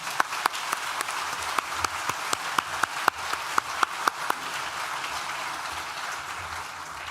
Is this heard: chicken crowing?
no